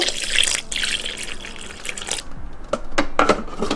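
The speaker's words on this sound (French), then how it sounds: "Maintenant je vais venir ajouter 1200 g d'eau." Water, 1200 g, poured into a food processor bowl, a continuous splashing rush that thins into separate drips and trickles toward the end.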